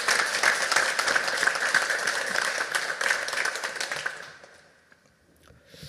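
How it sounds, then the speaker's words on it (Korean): A church congregation gives a round of applause for its young people, a steady, crisp patter of many hands that holds for about four seconds and then fades out to near silence. "우리 청년들을 향해서 박수 한 번만 부탁드립니다"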